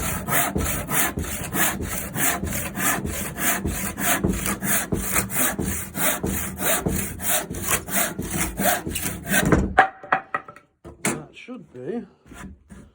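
A hand saw works through a pallet board in long, steady back-and-forth strokes for about ten seconds, loud and rhythmic. The sawing stops, and a few scrapes and handling knocks follow in the quieter ending.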